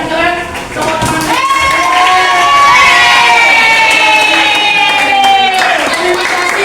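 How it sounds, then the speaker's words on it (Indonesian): A crowd of children and adults cheers, shouts and claps loudly and continuously at a rainy outdoor school gathering, with excited voices and whoops dominating throughout. "Tepuk tangan."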